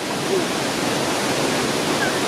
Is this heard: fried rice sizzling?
no